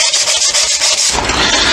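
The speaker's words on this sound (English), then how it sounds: "So I'm just now rubbing it down with 60 grade wet and dry sandpaper, slowly removing all these deep scratches from the surface." Loud, close, steady rasping as 60 grade wet-and-dry sandpaper rubs back and forth over a scratched, crash-damaged Kawasaki Z650B motorcycle points cover in a garage, a continuous gritty scrubbing with a rhythmic stroke pattern.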